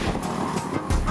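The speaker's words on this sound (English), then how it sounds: "279cc single-cylinder liquid-cooled engine" A UM Renegade motorcycle with a 279cc liquid-cooled single-cylinder, short-stroke four-valve carbureted engine rumbles briefly, with a short blip of revs near the end.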